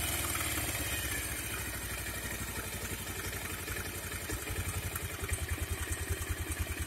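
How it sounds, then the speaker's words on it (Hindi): A Bajaj Pulsar 150 motorcycle engine idles nearby while its speed is turned down by hand, the smooth running settling into a slower, more distinct pulsing putter toward the end, with no talk. "इसे हम हाथ से उल्टा घुमा के इंजन की स्पीड को स्लो कर देंगे"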